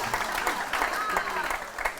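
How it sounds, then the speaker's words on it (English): Audience clapping in a quick burst over a murmuring crowd, moderately loud and a bit distant, with some voices underneath. "Does that get a round of applause?"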